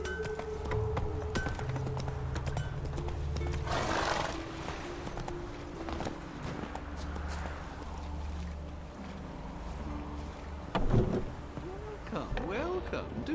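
Horse galloping in The Witcher 3, a steady run of hoof beats mixed with game ambience and water-like background, with a brief voice near the end.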